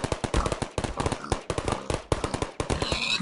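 Portal sentry turret firing in a video game mod, rapid bursts of loud automatic shots in quick clustered volleys, repeating several times with brief gaps, close and dominant.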